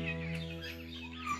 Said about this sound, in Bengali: চারদিক দিয়ে পাখির কিচিরমিচির সাউন্ড